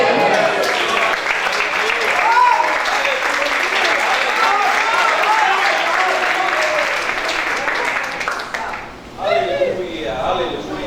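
A church congregation applauds during a sermon, a dense, steady wash of clapping from many hands mixed with scattered voices, sustained for about nine seconds before fading as a single voice rises briefly near the end.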